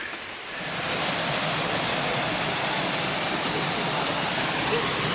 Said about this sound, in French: c'est pas la plus grosse cascade qu'on ait vue, mais c'est une cascade